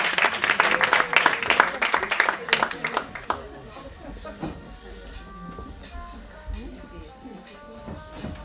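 A seated audience claps to welcome two guests on stage, dense applause for about three seconds that thins out and fades into scattered claps and room murmur.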